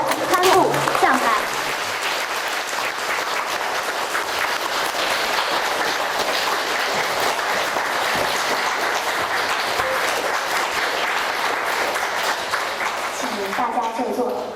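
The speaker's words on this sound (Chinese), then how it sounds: "让我们以最热烈的掌声欢迎慈悲的索达吉堪布上台" A standing audience at a lecture event applauds the arrival of a Buddhist khenpo, a loud, dense, steady clapping that fills the room throughout and thins near the end, with a few voices mixed in.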